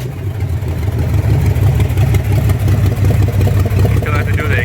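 A used V6 car engine, freshly swapped in with the exhaust not yet fitted, rumbles loudly and steadily close by, with a deep low throb running throughout.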